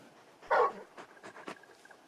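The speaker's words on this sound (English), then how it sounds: "You're just a big puppy, aren't you?" A very large dog companion in the Final Fantasy XVI game pants and whimpers softly, a brief burst of breathy sound followed by a few lighter pants, with no talk over it.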